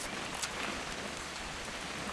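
Steady rain from the game What Remains of Edith Finch falls as a dense, even hiss that stays constant throughout, with no voices.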